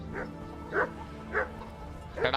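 Dogs barking in the video game Kingdom Come: Deliverance, three or four sharp yipping barks spaced about half a second apart, fairly close and loud over a low background hum.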